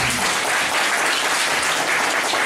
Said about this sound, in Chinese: 好，那我们给他热烈掌声。